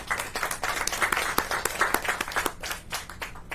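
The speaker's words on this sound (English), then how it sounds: "Will you please give them a big round of applause?" An audience claps at a Maryland COVID-19 vaccination briefing, a steady patter of many hands with sharp individual claps standing out, close and lively for several seconds before thinning slightly near the end.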